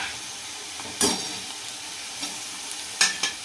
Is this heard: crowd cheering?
no